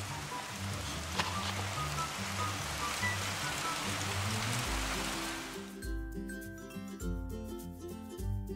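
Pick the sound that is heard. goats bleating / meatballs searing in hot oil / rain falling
rain falling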